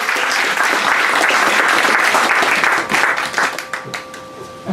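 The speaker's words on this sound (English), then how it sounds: "make sure we gave a round of applause" A room full of people at a memorial service claps loudly and steadily, the applause thinning into scattered individual claps at the end.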